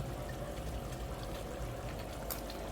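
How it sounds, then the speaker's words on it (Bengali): An ingredient pours into a cooking pot of goat head curry as a soft, continuous rush that stays even and quiet throughout. "এখন আমি ঢেলে দেব"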